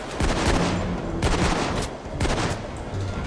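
Dense gunfire fills a Payday 2 heist as enemies shoot at the player, rapid overlapping shots and bursts with almost no gaps, loud and close throughout.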